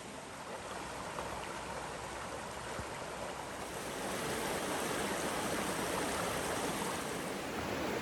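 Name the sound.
stream water flowing near a campsite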